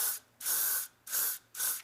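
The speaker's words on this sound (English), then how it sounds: "Then I'm going to use the Elnet satin setting spray." Elnet satin setting hairspray sprays from an aerosol can in three loud, hissing bursts with short pauses between them, close to the listener and with no voice over them.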